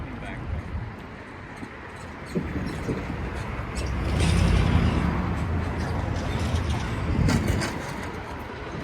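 Union Pacific trains rolling out of Hull Ave Yard, a low rumbling and rattling of moving rail cars that swells in the middle, with people talking over it.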